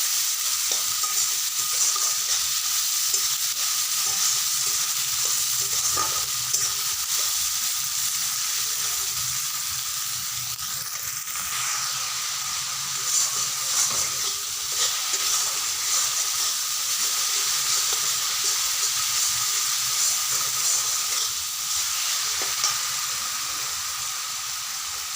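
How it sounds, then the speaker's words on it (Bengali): Onions frying in a pan until reddish, a continuous bright sizzle and hiss with occasional soft stirring scrapes, close and steady throughout, no voices. "পেঁয়াজগুলোকে একটু লাল লাল করে ভাজতে হবে।"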